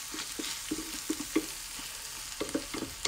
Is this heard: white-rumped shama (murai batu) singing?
no